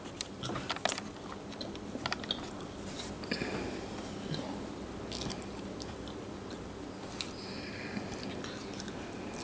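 Someone bites into and chews Romanoff caviar, producing soft wet crunches and squishy mouth sounds at close range, irregular and fairly quiet against a low background hum.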